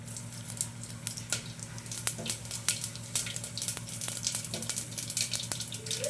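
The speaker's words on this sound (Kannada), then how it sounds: "ಎಣ್ಣೆ ಕಾದ್ಮೇಲೆ ಸಾಸಿವೆ ಸೇರಿಸ್ಕೊತಾ ಇದ್ದೀನಿ" Mustard seeds, cumin and garlic spit in hot oil for a Kannada-style tempering for dal saaru, giving steady sizzling with scattered sharp pops and crackles that keep going throughout, with no talk.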